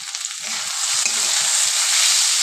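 Egg and potato chorchori fries with salt and chili powder in a hot pan, a loud, continuous sizzle close up, with soft scraping thumps as the mixture is stirred; no voices.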